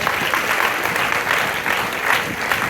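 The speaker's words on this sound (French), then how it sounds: "On peut applaudir le Seigneur puissamment ce matin." A church congregation at a morning service claps for the Lord, a thick, continuous patter of many hands with gentle swells, steady and fairly loud with no speech on top.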